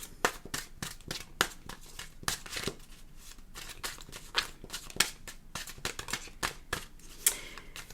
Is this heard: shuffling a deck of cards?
yes